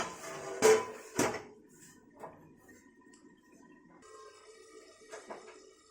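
A metal lid clatters onto a pan of paneer masala with two sharp knocks, followed by softer clinks and a low simmer in a quiet kitchen.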